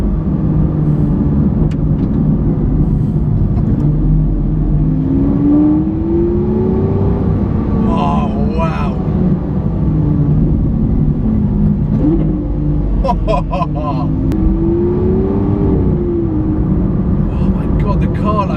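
Lamborghini Aventador SV V12 with a single-clutch gearbox revving as it drives, engine tone rising and falling through the gears, loud and close, steady throughout, with someone talking over it at times.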